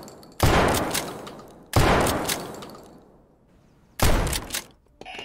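Three loud, booming Mossberg 590 shotgun blasts, each with a long rolling decay, spaced a second or two apart, followed by a softer mechanical clack at the end.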